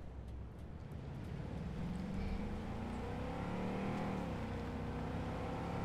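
Car engine in Cyberpunk 2077 droning steadily while driving, a continuous mid-level hum with rising and shifting tones, no talk heard.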